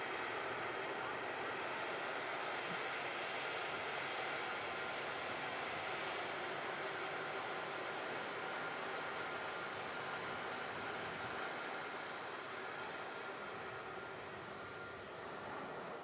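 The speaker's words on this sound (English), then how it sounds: "Silky touchdown from the EasyJet." An EasyJet airliner lands at Manchester Airport, its engines giving a steady, broad roar at some distance that holds for the whole stretch and eases slightly toward the end.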